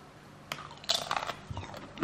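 Crunching on baked Lay's Forno chips with mint flavoring, a few close, crisp bites and chews in quick succession with no talking.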